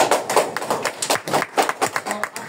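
Audience at a DXN beauty meeting clapping together, a loud close burst of rapid, dense handclaps lasting a couple of seconds.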